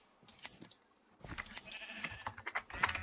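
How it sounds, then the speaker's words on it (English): A sheep bleats in the Minecraft Skyblock game, a few short quiet bleats mixed with light clicking from a computer keyboard and mouse. "It's the freaking sheep."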